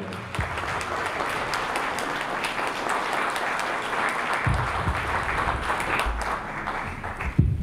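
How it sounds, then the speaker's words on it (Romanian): Sustained audience applause at an evening Christmas carol concert, a dense steady wash of many hands clapping throughout with a few louder individual claps standing out near the end. "haideți să o aplaudăm pe Claudia."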